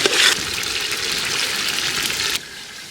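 Water gushing from a tap or jug into a pot of biryani rice in a home kitchen, a steady broad splashing pour that stops abruptly near the end, no talk over it.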